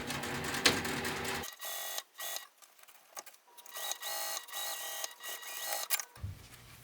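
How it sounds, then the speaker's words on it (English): A sewing machine stitches a seam on a fabric pouch, running in rapid mechanical bursts separated by short pauses for back-stitching, close and fairly quiet with no talking. "I'm just going to sew from one side to the other, making sure that I back stitch when I start and stop."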